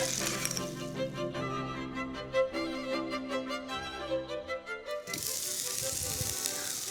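A pan of clams sizzles and crackles steadily, then a sudden loud hiss erupts as a splash of dry white wine hits the hot surface, fizzing strongly up close.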